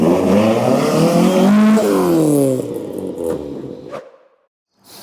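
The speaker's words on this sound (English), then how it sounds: "ST170 on bike carbs sounds sweet." Ford Focus ST170 fitted with motorbike carburettors at a classic car gathering, revving hard with rising harmonic engine notes, then pulling away and fading into the distance until nearly silent.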